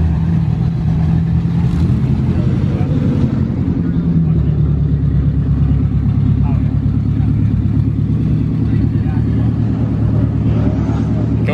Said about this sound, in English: All right, here we go, guys. It's gonna be Alex's second pass right here in the sedan